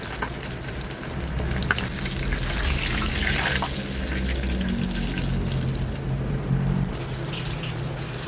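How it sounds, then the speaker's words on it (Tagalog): Rice washing water poured into a casserole pot on the stove, a steady sizzling, gushing wash of liquid sound lasting several seconds, close by, with no voices. "dito sa ating kasirola, maglagay tayo ng hugas bigas."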